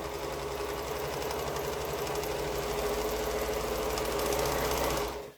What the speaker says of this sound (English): So you're just going to go down and sew the whole length